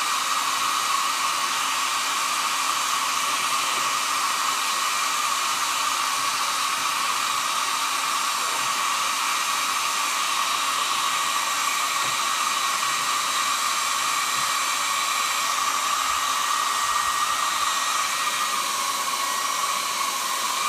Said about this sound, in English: take a blow dryer, hair dryer